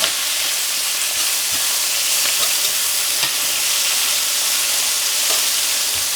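Kale and caramelised onion pesto being stirred through scrambled eggs in a hot pan, a loud continuous sizzle and fry with light scraping of the spoon throughout, no talking.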